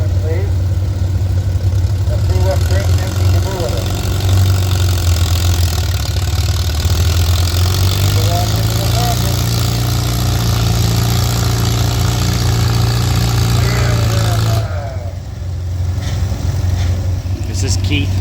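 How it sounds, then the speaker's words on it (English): An antique Farmall tractor engine idles at a tractor pull with a steady low chug throughout, briefly dipping near the end, with faint voices in the background. "Now Trenton's even borrowing Farmall tractors."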